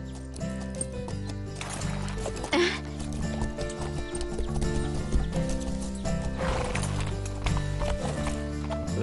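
A horse whinnies loudly over steady clip-clopping hooves and a musical background, close and continuous, with a second neigh toward the end.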